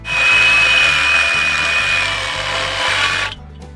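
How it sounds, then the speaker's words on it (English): A reciprocating saw with a dull blade cuts through a wooden fence post, a loud, steady buzzing drone with a rapid stroke rhythm, held close for about three seconds before stopping abruptly. "Reciprocating saw, even with the dull blade"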